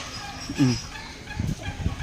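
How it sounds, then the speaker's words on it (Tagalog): A flock of turkeys on a farm in Abra gives a few short, nearby gobbling calls with quiet background noise between them. "Ang daming pabo, oh."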